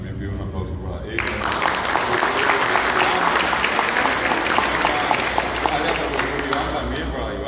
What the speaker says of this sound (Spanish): acá el caso de Liliana, también pido un aplauso para ella.